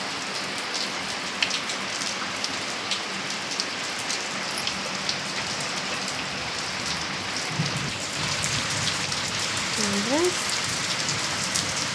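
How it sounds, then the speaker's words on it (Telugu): Heavy rain falling in front of a house, a thick unbroken hiss of drops hitting surfaces close by, steady throughout and growing slightly heavier late, with a brief faint voice-like sound near the end. "ఇప్పుడైతే వర్షం గట్టిగా వస్తుందండి"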